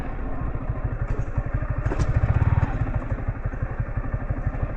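Motorcycle ridden off-road on a rough marble hillside track at Godawari, its mid-pitched engine pulsing in steady rapid thumps with a louder surge of revs midway, close and continuous with some clatter.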